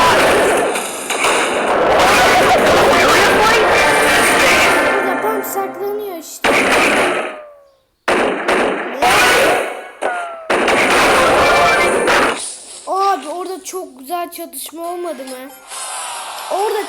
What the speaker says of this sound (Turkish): Çok güzel çatışma olmadı mı arkadaşlar?